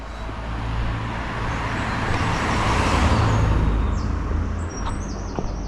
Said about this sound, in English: it's all traffic, it's loads of cars